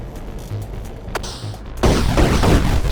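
A tank firing in the Atari 50 video game Quadratank, a sharp electronic blast that bursts in midway and becomes a sustained noisy rumble, loud and close, with faint game sounds before it.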